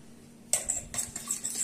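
A whisk clinks and scrapes against a glass while stirring chocolate sauce for profiteroles, a series of quiet, close metallic taps starting after a short pause.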